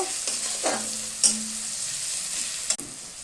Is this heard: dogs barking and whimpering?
no